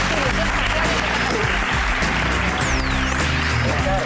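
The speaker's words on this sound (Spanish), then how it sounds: "Fuerte aplauso para Ricard Casas." Studio audience applauding to welcome a guest astrophysicist onto a Spanish science show, steady clapping filling the room under music and a host's voice.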